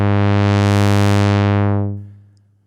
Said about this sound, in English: If I raise the level 2 slider, we'll hear the green modulation oscillator.